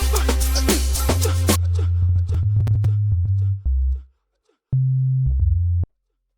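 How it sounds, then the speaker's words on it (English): A pure, steady low sine wave tone sounds from the default Operator synthesizer in Ableton Live 11, starting under a brief burst of busier sound, then cutting off and returning for a few short sustained notes. "It's just a sine wave."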